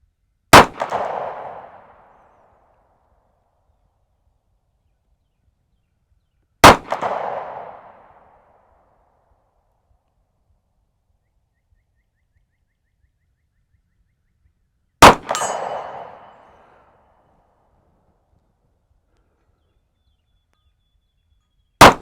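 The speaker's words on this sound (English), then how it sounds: "Shoot at the little gong on the left" Airgun pellets from an Umarex Regent 1911 R350CR strike a small steel gong target at 50 yards: three sharp, ringing clangs spaced several seconds apart, each decaying quickly, with a fourth hit starting at the very end and silence between.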